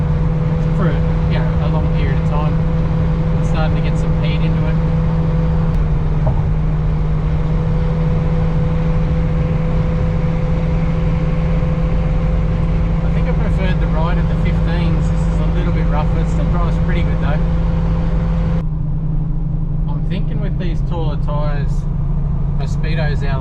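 A Holden Commodore V8 engine in a revived classic barn find hums steadily while driving at about 80, a constant low drone with a voice talking over it throughout.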